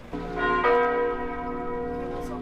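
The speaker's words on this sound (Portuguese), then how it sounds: "várias catedrais da França badalaram seus sinos em homenagem à Notre Dame de Paris" Church bells of French cathedrals ring in homage to Notre-Dame de Paris, with a rich, sustained metallic peal of several overlapping struck tones swelling and decaying, loud and steady without speech.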